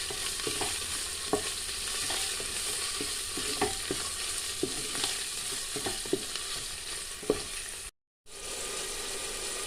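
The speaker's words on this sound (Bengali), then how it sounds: "এবার আমি সব মশলাগুলো একটু ভালো করে ভেজে নেব।" Spices for a chicken curry fry in hot oil with a steady broadband sizzle, broken by repeated scraping clicks of a spoon stirring through the pan; a brief dropout near the end, then the sizzle resumes.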